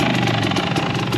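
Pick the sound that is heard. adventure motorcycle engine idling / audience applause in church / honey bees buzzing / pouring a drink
adventure motorcycle engine idling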